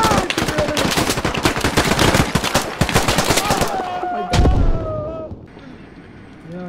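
Rapid gunfire in the SQUAD military shooter rattles close and loud in dense bursts, then a heavy boom lands and the shooting tapers into a fading whine.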